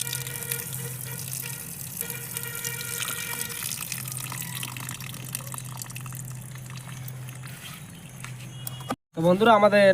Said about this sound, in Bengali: বন্ধুরা আরও একবার জল দিয়ে আমাদেরকে ধুয়ে নিতে হবে